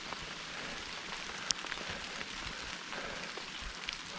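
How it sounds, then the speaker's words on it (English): Water drops shaken off leaves by wind on a forest stretch of the Appalachian Trail, a steady soft patter like light rain with a few sharper nearby drips. "I think it's just the wind blowing water off the leaves."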